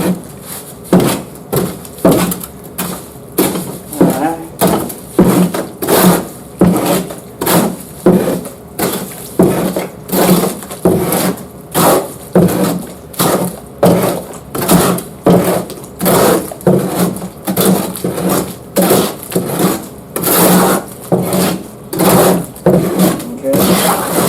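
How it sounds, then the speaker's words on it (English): A chopping hoe stirs and mixes a batch of masonry mortar, making a loud, close, rhythmic series of wet scraping and chopping strokes that repeat steadily, roughly every second, throughout. "you take this chopping hoe, just take a little bit of it and stir it up"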